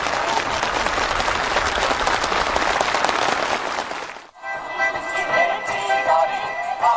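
Fervent applause from a crowd of officials, builders and farm workers at a housing move-in celebration on a farm village in South Hamgyong; dense, loud clapping fills the first four seconds, then cuts to quieter ambient crowd sound.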